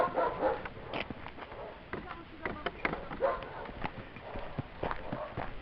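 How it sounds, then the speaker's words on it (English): Dogs bark in scattered sharp yaps, some near and some farther off, over a busy outdoor background with voices and footsteps. "every dog is barking"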